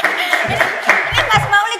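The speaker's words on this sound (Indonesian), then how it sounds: "tepuk tangan dulu nih" A small group claps hands in a casual podcast studio, a few uneven bursts of claps mixed with chatter and laughter, close and fairly loud under ongoing talk.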